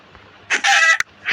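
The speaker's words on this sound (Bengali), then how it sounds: "তো একটা মুরগি মারি।" A Minecraft chicken gives short, close clucking squawks as it is hit and killed: a burst, a longer squawk, a sharp click, then another squawk starting at the end, with no talking.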